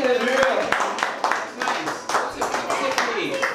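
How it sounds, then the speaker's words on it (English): Hands clap in a steady, crowd-like patter that continues throughout, with voices talking and calling out over the applause. "y'all give a round of applause"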